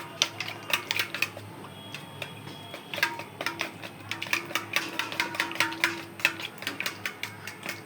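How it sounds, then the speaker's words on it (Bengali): Three eggs being beaten in a bowl for frying, a quick series of light clinking taps from a utensil striking the bowl in an uneven rapid rhythm, close and fairly quiet. "ডিম 3টা এখন ফেটে ভেজে নিব"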